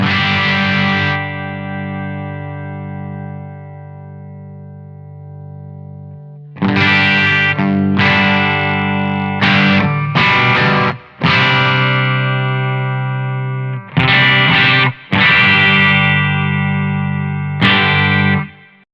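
An electric guitar plays through a Simplifier MK II amp simulator on its Vox setting: a long sustained distorted chord rings out, then a series of loud, close strummed chords and riffs with chorus-like shimmer and slight feedback, with no talking.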